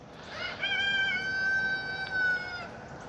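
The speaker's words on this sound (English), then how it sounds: "say good morning to the chickens" A rooster crows once, loud and close, a long drawn-out call with a rising start, while chickens in a backyard flock stay mostly quiet around it.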